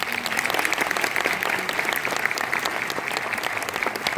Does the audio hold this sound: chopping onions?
no